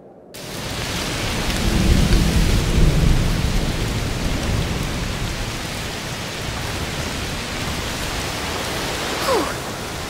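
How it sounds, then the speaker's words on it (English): Steady heavy rain with deep rolling thunder in the video game A Plague Tale Requiem, a dense close downpour that swells early on and stays constant, with a brief sharp crack near the end. "Must be a heat storm."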